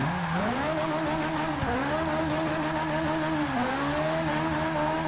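A Ferrari 458 Italia engine in a video game wails and shifts pitch continuously while tires squeal through a long drift, loud and steady throughout with no voices.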